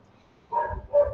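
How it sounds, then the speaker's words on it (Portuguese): Several dogs bark outdoors in two short bursts, a few moments apart and moderately near, with nothing else heard. "a cachorrada está toda latindo ali fora"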